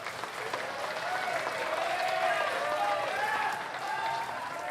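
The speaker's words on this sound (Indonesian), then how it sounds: "Berikan aplaus untuk ketiga pasangan calon" Sustained applause from a debate audience for three pairs of candidates at a regency head election debate, steady dense clapping filling the room at moderate volume without a break.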